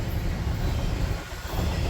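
A freight train of 40-foot intermodal containers reconfigured to haul trash rolls past, a continuous low rumble with a wash of steel-wheel noise, close and steady.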